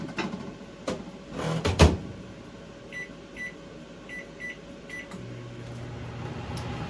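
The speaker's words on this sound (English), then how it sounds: "microwave it on side 2." A microwave oven heating a Dr. Praeger's California veggie burger, opening with a few clacks of the door and buttons, followed by faint beeps and then a steady low hum of the running oven.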